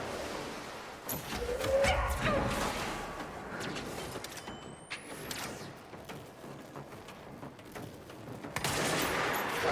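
Gunfire in the game Control, a scattered run of shots amid busy combat noise, fairly loud and steady across the clip with no talking.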